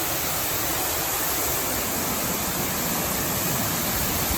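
Upper Lateral Falls, a waterfall in the Columbia River Gorge, roars as a steady, loud broadband rush of falling water, constant and unbroken throughout with no voices.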